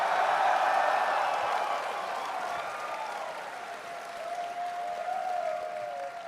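Convention crowd at a live podcast panel applauding steadily, a thick wash of many hands clapping with scattered cheers and whoops, staying loud throughout and easing only slightly toward the end, no speech over it.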